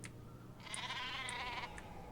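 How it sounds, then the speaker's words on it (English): A sheep bleats once in a video game, a single wavering bleat of about a second over a low background hum, fairly quiet and with no talk. "I guess we better go shear some sheep. I hear one."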